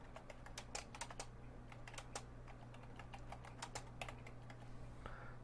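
Computer keyboard typing, quick irregular clicks of keys in a steady run with brief pauses, set against a constant low hum in a workshop or office while entering a name for a new output on a machine's alarm light tower setup.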